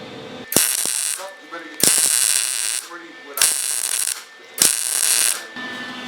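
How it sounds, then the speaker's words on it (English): Four bursts of loud crackling arc welding on a car frame while installing subframe connectors, each lasting about a second with short quiet gaps between, close up. "Alright, ready to weld now."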